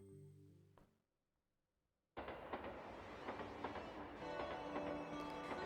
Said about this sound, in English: he boarded a train heading in the opposite direction